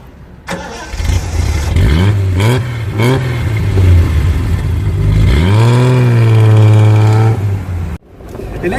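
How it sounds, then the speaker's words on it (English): A Triumph TR6 sports car engine cranks and catches, then revs up and down in several loud, close bursts before holding a rising, sustained roar and cutting off abruptly. "I have the opportunity to drive this fantastic car today."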